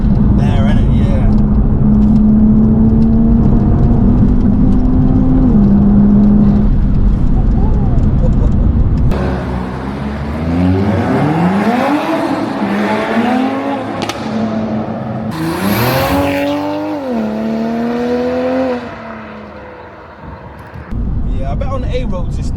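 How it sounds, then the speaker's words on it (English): A 420 bhp Stage 1 tuned Toyota Supra is driven on a dual carriageway, and its engine and induction note drones steadily, then climbs and drops through gear changes, under people talking inside the car. "There's a nice induction noise as well, isn't it?"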